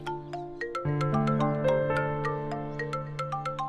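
An incoming call on a mobile phone sets off a melodic ringtone that loops a short rising-and-falling chime pattern, clear and close, with no speech over it.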